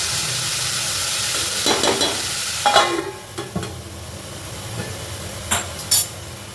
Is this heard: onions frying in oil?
yes